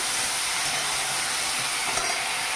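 A paste of tomato, onion, garlic, ginger and green chilli is stirred in a hot pan, sizzling in a steady loud hiss with a brief scrape near the end and no voices.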